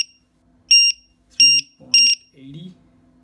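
A Gartt LiPo voltage tester's low-voltage alarm sounds three short, loud, shrill electronic beeps at an even pace, close by, followed by a brief voice.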